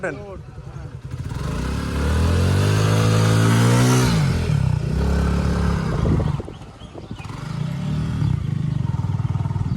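A Suzuki GSX-R motorcycle stuck in sand revs hard and loud, rising and straining in long bursts, with people talking over the noise.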